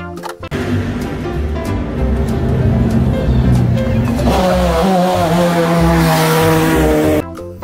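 A race car engine roars close by, revving higher and higher in rising sweeps before cutting off abruptly near the end.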